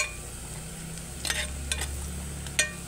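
Minced garlic and onion frying in oil until golden, a steady soft sizzle broken by a few sharp scraping stirs of the pan.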